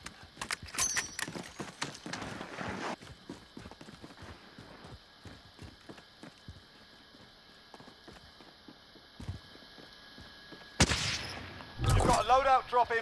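Video game shooting in a multiplayer match: a rapid burst of gunfire opens, quieter scattered shots and movement follow, and a second dense, loud volley of fire hits near the end.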